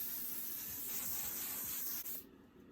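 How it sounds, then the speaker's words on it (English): A sustained aerosol spray of oil sheen onto hair hisses steadily for about two seconds, close to the microphone, then cuts off abruptly into quiet. "So let me spray some oil sheen on the head."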